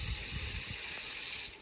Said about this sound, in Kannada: ನೋಡ್ಬೋದು ನೀವು, ಇಲ್ಲಿ ಬರ್ತಾ ಇದೆ ಅಲ್ವಾ ನೀರು.